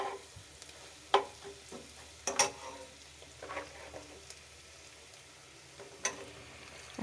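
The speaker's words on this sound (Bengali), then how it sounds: "ডিম দুটো নেড়ে চেড়ে ভালো করে ভেজে নিব।" Two eggs frying in a pan for chicken pasta, a low sizzle punctuated by sharp spatula knocks and scrapes as they are stirred, close and fairly quiet, no talking.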